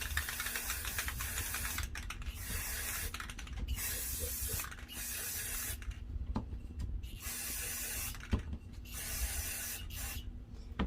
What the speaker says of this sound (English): So I am going to spray them.